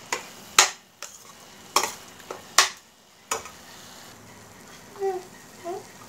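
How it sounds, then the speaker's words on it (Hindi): Eggplant bharta with peas cooks on a medium flame, a soft sizzle beneath several sharp clinks and taps of a spoon against the pan, then a few faint squeaky scrapes near the end. "बस इसे हम लगभग 3 से 4 मिनट तक पकने देंगे"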